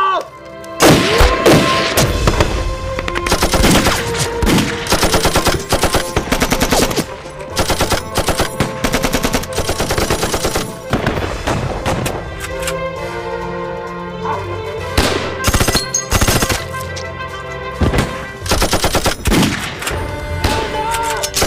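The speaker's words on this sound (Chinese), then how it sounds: "当机立断下令开枪。" A war-drama battle between soldiers and bandits erupts in loud gunfire: rapid machine-gun bursts and single rifle shots crack in dense, overlapping volleys, with heavy thuds in between.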